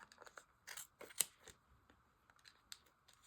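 Sharp scissors from a dollar store snip through a yarn pom-pom down its center groove, giving a quick series of close, crisp crunching cuts with brief pauses between them.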